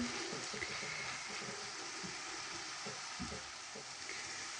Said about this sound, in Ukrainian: обсмажуємо цибульку